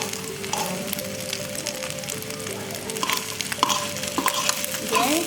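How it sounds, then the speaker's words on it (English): An egg is stirred and scrambled in a hot pan for Chinese home-made rice, sizzling steadily at close range with scraping stir sounds and light crackles, with no talk. "Going to scramble the egg."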